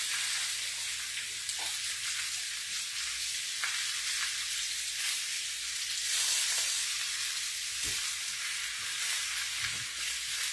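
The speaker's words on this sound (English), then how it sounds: "our chicken, you can hear that nice and sizzle" Chicken sizzling and frying in a pan with olive oil, a steady crackling hiss that holds throughout, with occasional soft stirring clatter and no talk.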